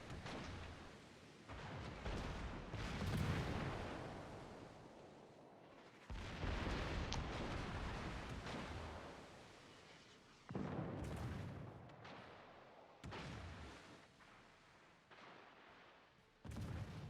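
Warship guns fire in World of Warships during a naval battle, heavy booming salvos landing in several separate bursts, each one swelling loud and then fading away into a low rumble before the next.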